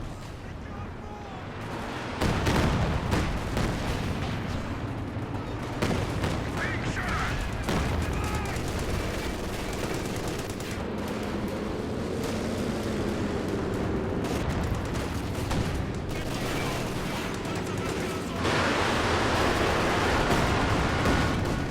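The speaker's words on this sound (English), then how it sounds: "close range Panzerwerfer barrage, but that was dodged" Panzerwerfer rocket barrage in Company of Heroes 2, a 4v4 match: dense, sustained rumbling bursts and crackling impacts roll on throughout, with a heavier surge near the end, while a voice talks over the battle.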